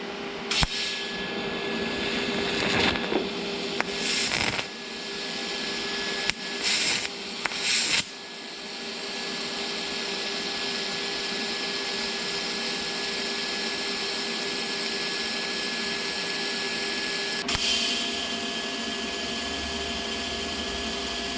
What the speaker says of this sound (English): So I got it all welded up.